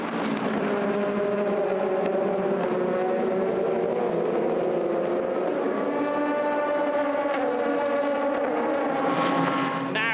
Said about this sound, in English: it is a good getaway from Paul Lafargue as they head down into Verrerie for the first time